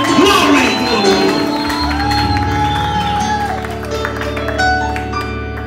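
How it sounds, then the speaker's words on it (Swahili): A church congregation cheers and applauds, a broad wash of clapping and shouts blended with sustained keyboard music and a voice over the crowd. "Unaweza kumpatia kelele za shangwe yeye."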